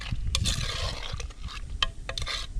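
Grape jam being stirred with sugar in a pot over a bush campfire, giving wet scraping and sticky sloshing strokes in an irregular rhythm, close and fairly soft.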